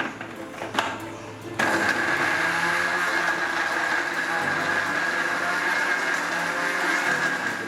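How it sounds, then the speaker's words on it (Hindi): A kitchen mixer grinder whirs steadily while grinding roti into fine powder after a brief start-up, a loud continuous motor hum with faint handling noises before it begins. "रोटी की मिक्सी में डाल के ऐसा पतला पाउडर करना चाहिए"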